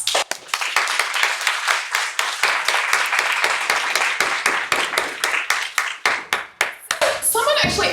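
An audience gives a round of applause at a scientific talk, a dense burst of many hands clapping that carries on for several seconds before fading, with a voice resuming at the end.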